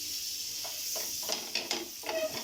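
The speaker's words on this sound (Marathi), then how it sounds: "पाव छानपैकी या मस्क्यात आपल्याला तळून घ्यायचे आहेत" Bread rolls (pav) frying in butter in a pan give a quiet steady sizzle, with a few soft scrapes and crackles as they are moved around.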